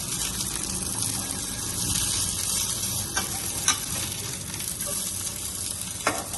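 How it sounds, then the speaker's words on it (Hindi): Tomatoes fry in a pan for a mooli chutney, giving a loud, steady sizzle with a few sharp clicks as the pieces are turned over. "टमाटर हमारे एक साइड से पक चुके हैं, अब इनकी हमने इस तरह से साइड चेंज कर देनी है"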